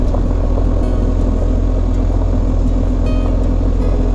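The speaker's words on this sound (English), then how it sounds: "this is all engine braking for me right now" A motorcycle engine-braking down a gravel road sends out a continuous low, droning rumble under steady wind noise, close and loud with no speech.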